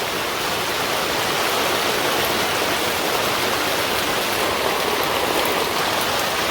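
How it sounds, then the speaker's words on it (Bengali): Dense, steady rain pouring down, a continuous loud hiss with no voices or breaks. "হঠাৎ করে বৃষ্টি শুরু হয়ে গেছে"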